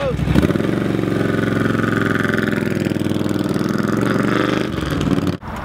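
A 2010 Harley-Davidson Electra Glide Ultra Limited engine runs close and loud in a steady, throbbing idle, then briefly revs up before cutting off near the end.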